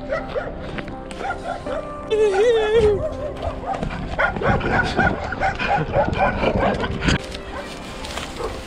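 A dog yips and whimpers excitedly in short bursts beside an urban ditch, with someone talking over it and a high whistle-like tone early on.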